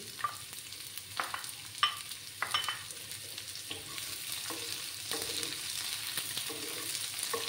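Sliced onions and whole cumin fry in hot oil, giving a soft, continuous sizzle with a few spatula scrapes and taps early on, then a gentler, steadier crackle after the flame is lowered.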